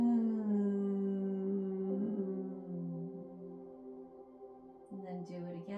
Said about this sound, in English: allow yourself to keep your lips together and hum